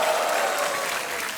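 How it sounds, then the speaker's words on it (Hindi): Brief burst of thick studio audience clapping on a Hindi TV quiz show, loud and even from start to finish, with no voices on top. "तालियों की गड़गड़ाहट और होनी चाहिए देवियों सच में।"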